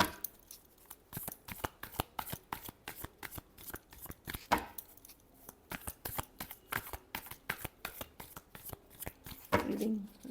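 Tarot cards are shuffled for a reading in a rapid series of crisp riffling flicks and taps, close and fairly quiet, with brief pauses between bursts.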